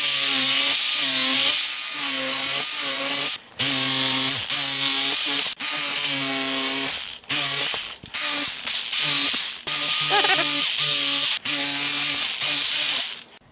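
A small buffer fitted with 36 grit paper sands seat foam on a square-body truck seat, a loud, high whining motor buzzing in long bursts with several short stops and restarts.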